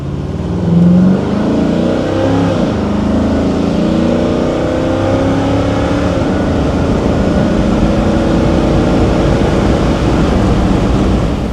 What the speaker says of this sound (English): Well, that's 80 miles an hour real quick.